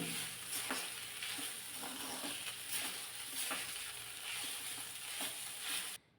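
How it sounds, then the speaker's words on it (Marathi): Ingredients for a Shravan Monday fasting dish stir-fried in a pan, a steady close sizzle with regular scraping stirs for about six seconds, then cut off abruptly; no voices. "एखादा मिनिटभर हे परतून घ्यायचं आहे अगोदर."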